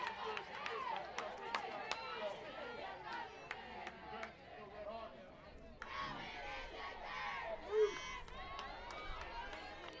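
A modest crowd at a Miami RedHawks vs Central Michigan Chippewas college softball game chatters and calls out at a distance, with sharp claps and shouts scattered through the murmur.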